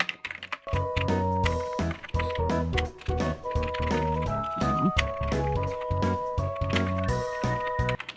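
Rapid keystrokes on a computer keyboard as a site title is typed during a WordPress setup, with the clicks partly under steady background music.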